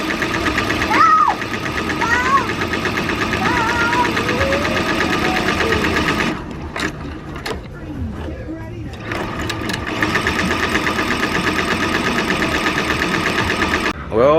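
A Tajima TMBP embroidery machine stitches a star design onto a Comfort Colors T-shirt with a loud, steady rapid mechanical chatter that stops midway for a few seconds and then resumes.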